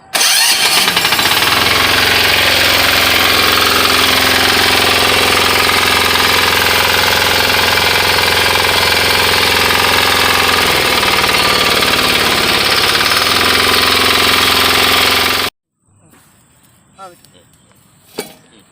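A WEIMA 6HP diesel power weeder with a center rotary runs loud and close, its engine hammering at a steady fast rhythm for about fifteen seconds before stopping abruptly, followed by a few faint clicks and knocks.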